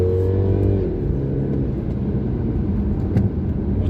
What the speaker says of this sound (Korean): 재미를 위해서 사운드가 크게 들려져 오는 가상의 엔진 사운드 같긴 한데